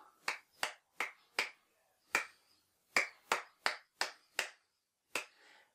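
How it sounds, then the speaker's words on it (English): A single pair of hands claps out a rhythm for a guitar lesson, ten or so sharp, close claps in uneven groupings separated by short silences, alone in a quiet room. "it's easier if I clap that"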